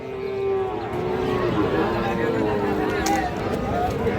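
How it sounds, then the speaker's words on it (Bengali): Friesian and crossbred heifer calves stand at a busy cattle market at Raniganj haat in Ghoraghat, Dinajpur. A cow lows under steady crowd chatter, and people talk nearby throughout. "আমরা যে জায়গায় ফ্রিজিয়ান ও ক্রোজ জাতের বকনা বাছুর গরু ক্রয় বিক্রয়, আমরা সে জায়গায় রয়েছি।"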